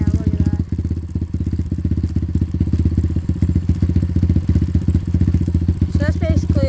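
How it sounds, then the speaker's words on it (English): A dirt bike engine runs at a steady, rapid idle with a clattery, mechanical rhythm, loud and close throughout, with a brief revving flourish near the end. "Here, I'll start the bike real quick."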